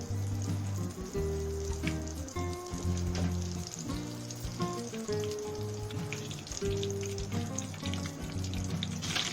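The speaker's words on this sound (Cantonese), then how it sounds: "放入酥皮， 炸到佢開花" Lotus flower puff pastry deep-fries in hot oil with a dense, steady crackle and bubbling that runs throughout, partly under prominent background music.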